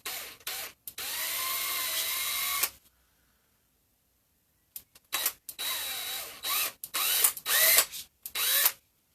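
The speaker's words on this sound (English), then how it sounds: "I probably didn't drill that in the safest method possible, but it'll be alright." A power drill bores into trophy parts in bursts: one long whirring run, a pause of silence, then several short stop-start pulses of the motor, close and clear.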